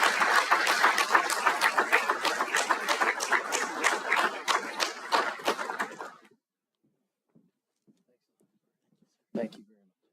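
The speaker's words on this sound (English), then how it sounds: "Please give a warm applause and welcome General Fenton" Audience applause at a strategic-communications summit welcomes a general to the stage, loud, dense clapping sustained for about six seconds before stopping abruptly, followed by near silence and a brief stir of sound.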